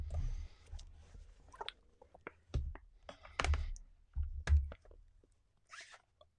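An iPad Pro 12.9 from 2020 is pressed into its keyboard case, giving soft scattered clicks, taps and rustles at close range with quiet gaps between them.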